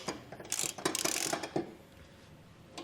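A ratchet wrench cranks down the bracket bolts on Westin E-Series round nerf bars on a 2021 Chevrolet Silverado. It gives a close, quick run of mechanical clicks in short bursts, then goes quiet.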